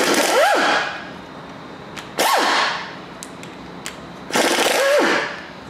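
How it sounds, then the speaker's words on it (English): Three short bursts of a pneumatic impact wrench spinning out half-inch bolts on a Chevrolet 454 big-block engine, each burst a second or so long with a rising-then-falling whine, separated by brief quiet gaps with small clicks. "Now we can remove these 3 half-inch bolts here."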